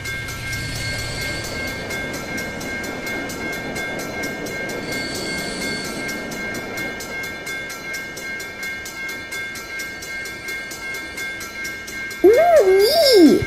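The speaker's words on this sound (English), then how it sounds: "I don't know what took the train so long." A train in the Roblox game Rails Unlimited rumbles past continuously with a steady mechanical drone and faint clatter, then a loud horn sounds near the end.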